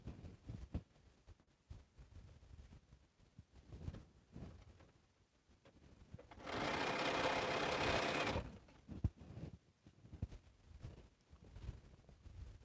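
Long-arm quilting machine stitching a quilt, heard as one loud burst of steady whirring lasting about two seconds midway, with quieter handling noises and soft knocks before and after.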